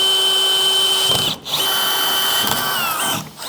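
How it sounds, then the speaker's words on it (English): A power drill whirs steadily at high pitch, drilling holes in an auger for a tank fill tube liner on a John Deere, briefly stopping twice before spinning up again; loud and close with no talking. "we're going to drill these 4 holes out down here"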